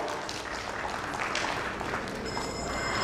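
Audience applause at an insurance industry summit and awards event, a moderate, fairly faint even wash of clapping from a seated crowd, continuing steadily throughout.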